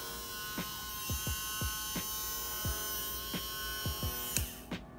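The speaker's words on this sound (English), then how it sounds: "I just wanted you guys to hear the difference from a horrible nail file to one that's good." A MelodySusie Scarlet electric nail drill runs at about 12,000 RPM with a steady high whine, interrupted by repeated brief dips and surges in speed as it is pressed and lifted, alone and fairly faint.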